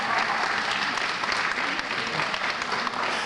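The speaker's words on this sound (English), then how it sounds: "save your applause until all the kids are up here, and then we'll applaud." Continuous applause from an audience at a school academic awards ceremony, a steady even clatter of many hands clapping together throughout, moderately loud and without talk.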